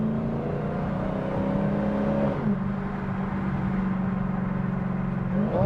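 A 2019 Dodge Challenger SRT Hellcat Redeye Wide Body Edition engine revs loud and close, holding a steady throaty drone, then briefly dropping pitch and climbing again near the end, with no talking.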